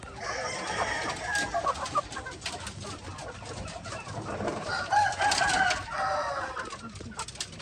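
White Leghorn laying hens cluck and chatter continuously, a busy flock close by with overlapping calls and occasional louder squawks.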